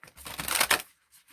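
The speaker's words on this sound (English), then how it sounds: "I will try to side shuffle" A large oracle card deck is side shuffled by hand, giving a brief close papery riffle and rustle lasting under a second, followed by a couple of faint soft taps.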